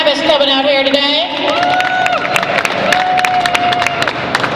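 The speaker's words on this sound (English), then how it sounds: "please give a round of applause again for Travis coming out here today" Festival crowd at a Pride event applauding and cheering for a performer named Travis, with dense clapping and scattered shouts heard near and loud, and a voice singing or calling out over it.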